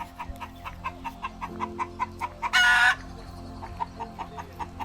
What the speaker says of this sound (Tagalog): Ayan, mga manok oh.